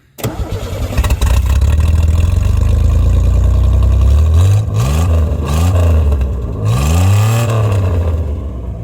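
A loud car engine, run after sitting abandoned for 15 years, revs repeatedly with a raw, unmuffled roar from exhaust cut off just behind the catalytic converter, rising and falling in several bursts close by.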